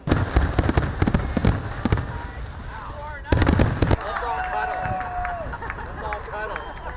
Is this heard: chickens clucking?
no